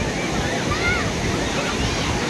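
Water rushes steadily at Pennabadvela village in Kaluvai, Nellore: a continuous broadband roar like a weir or small falls, close and unbroken throughout, with faint voices in the background.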